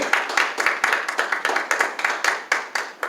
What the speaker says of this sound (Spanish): Dar una ofrenda de palmas al Señor